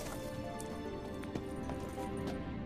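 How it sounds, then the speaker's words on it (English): Horse hooves in The Witcher 3 clip-clop faintly under a steady ambient game hum, a few soft irregular knocks scattered over a few seconds. "Another horse. Almost exactly like the last one."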